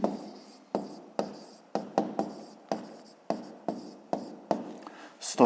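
A pen writes digits for a fifth-grade maths exercise, giving a series of short scratching strokes in an uneven rhythm, close and quiet, with a slight bump at the end.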